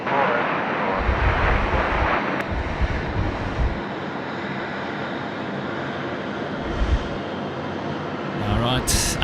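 A Singapore Airlines Airbus A350 approaches to land on runway 34 left at Sydney Airport, a steady, distant jet roar blended with wind buffeting the microphone while people talk over it.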